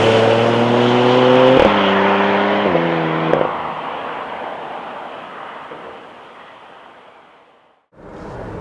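A 2015 Porsche Macan Turbo engine revs hard through several rising gear pulls, loud and close, then fades into a steady rushing drone as the car drives on; no voices.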